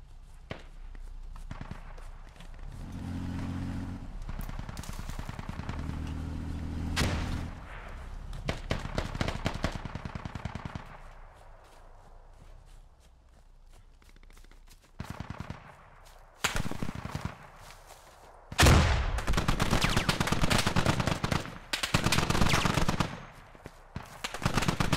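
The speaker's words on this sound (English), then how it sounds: "Gunners, keep suppressing the compound." Machine gun suppressing fire on a compound in the tactical shooter game Squad: sustained automatic bursts and scattered gunshots, some distant and some close and loud, with a few pauses between volleys.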